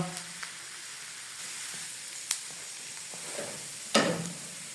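Garlic frying in a pan as the first step of a moong masoor dal, a soft steady sizzle with a few brief clinks and stirring scrapes, fairly quiet throughout.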